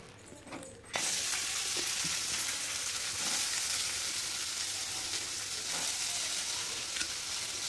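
Sprouts drop into hot oil and burst into a loud, steady frying sizzle after a quiet moment, continuing evenly with occasional faint stirring sounds and no speech.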